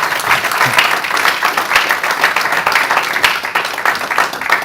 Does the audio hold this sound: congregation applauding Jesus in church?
yes